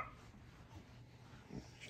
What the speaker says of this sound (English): Puppy Pete is very busy defending us from all the bad people outside.